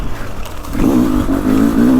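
A 300cc two-stroke enduro dirt bike engine, KTM 300XCW or Beta 300 Race Edition, revs up sharply from a lower burble into a loud, buzzy rising tone, close by, without talking.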